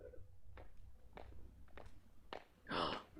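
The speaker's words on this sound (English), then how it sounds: "I hear footsteps approaching." A few soft, sparse footsteps from the Steins;Gate visual novel, faint and separated by quiet gaps, with a louder breathy rush near the end.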